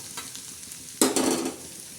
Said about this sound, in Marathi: आता आपण जिरा आणि लसणाचं मस्त टाकलंय